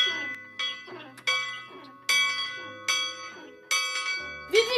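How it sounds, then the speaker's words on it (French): A church bell rings out repeatedly in a loud, evenly spaced series of clanging strikes, each ringing on and decaying before the next, sounded as an alarm as militia approach a rural French village. "Faut sonner la cloche."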